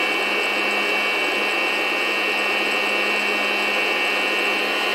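A FreshRoast SR700 coffee roaster runs with the heat on high and the fan just turned down a notch, making a loud, steady whooshing blower roar with a faint constant hum that stays unchanged throughout.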